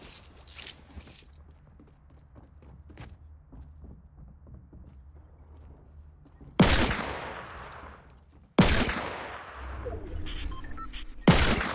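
Grenade explosions and gunfire in the video game Fortnite: quiet stretches of footsteps and scattered shots, then three loud, abrupt blasts each followed by a ringing, decaying tail.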